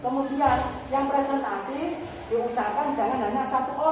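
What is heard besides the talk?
No everyday noises stand out.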